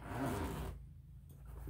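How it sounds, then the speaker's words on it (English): Zipper being pulled on a hood carrying case, a close, steady rasping run that stops partway, followed by quieter handling rustle. "I really like the zipper feature."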